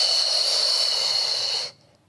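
A long, forceful breath out during a Pilates exercise, heard as a steady close breathy hiss that stops abruptly near the end, with no talking.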